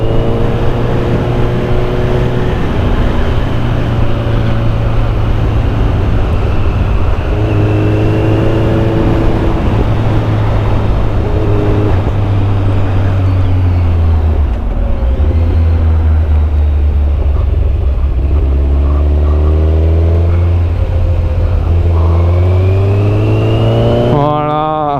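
Kawasaki Z1000 motorcycle, heavy at 221 kg, riding off with a loud, close engine drone that climbs and drops through gear changes over a steady rush of wind.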